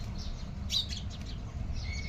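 A house sparrow bringing grain to its chicks gives a few thin, high chirps, faint and scattered across a couple of seconds over a steady low background rumble.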